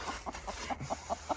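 A hen clucks in a nest box as eggs are collected from under her, a close series of short, rhythmic clucks over faint background hum.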